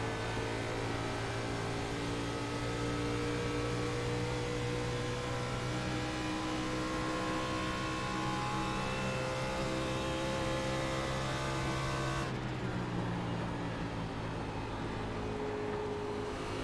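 iRacing race car in a B-Fixed race at Auto Club, its engine a loud, steady droning whine with strong tonal harmonics that shifts character abruptly near the end.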